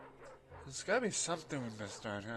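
A dog in the 2002 Liberty's Kids PC game gives a few yipping, whining barks, heard under and between someone talking.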